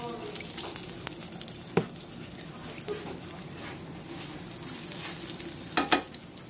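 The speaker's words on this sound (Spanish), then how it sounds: "vamos a poner la carne ahora a sofreír" Meat sautéing in a frying pan on a home stove: a soft, steady sizzle with light stirring clatter and two sharper knocks, moderately quiet and close, with no talk.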